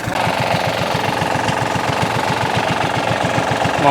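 Engines drone steadily with a fast, regular knocking pulse, loud and continuous: three engine-driven water pumps draining a gem mining pit in Ratnapura, Sri Lanka, running close by.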